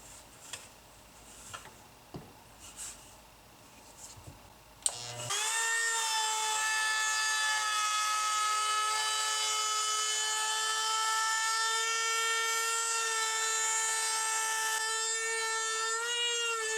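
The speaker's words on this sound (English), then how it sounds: "when you do the routing, make sure that you go at a decent speed" Router fitted with a 3/8 inch ball-bearing cutter shaping the edge of a wooden plate, starting with a sharp jolt after quiet taps, then a loud sustained high whine with a strong harmonic tone and a low rumbling undertone as it cuts.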